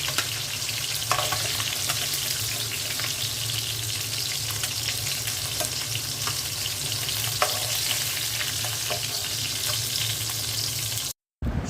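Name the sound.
sarputi fish frying crisp in oil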